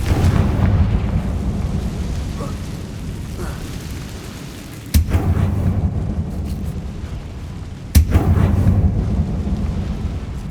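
Spell blasts from the Confringo fire spell in Hogwarts Legacy, two sharp booming bursts a few seconds apart over a rumbling game ambience, loud and close.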